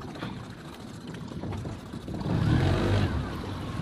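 An outboard boat motor on Lake Iamonia is put in gear, its low rumbling churn swelling louder over a few seconds against rushing wind noise outdoors.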